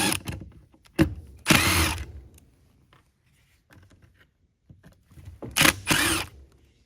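Perimeter T15 Torx screws come out of a Black and Decker 20V trimmer gearbox in two bursts of whirring power-driver spin, with sharp clicks and ratcheting knocks between them and quiet gaps around.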